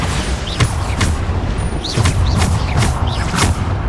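Repeated loud magical blasts from the Bombarda explosion spell in Hogwarts Legacy, several booming bursts in quick succession over a dense, roaring game soundscape.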